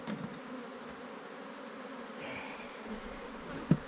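A swarm of honey bees buzzing around an opened hive during inspection, a continuous moderate hum up close, with a single sharp knock just before the end.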